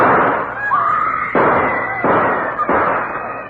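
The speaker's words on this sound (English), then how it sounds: "Gunshots have thrown the courtroom into turmoil." Several sharp gunshots ring out in quick succession in a courtroom, each leaving a reverberant tail as in a large room, with a faint whistling tone between them.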